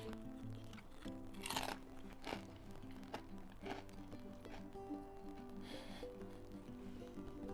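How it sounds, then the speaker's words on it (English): A knife slices through crispy-skinned smoked pork belly, producing a handful of sharp, quiet crackling crunches spaced a second or so apart over a soft background hum. "Yeah, you hear the crunch there."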